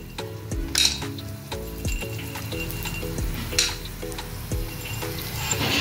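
Asafoetida frying in hot oil, a steady sizzle with a few metallic clinks and scrapes of a utensil against the pan.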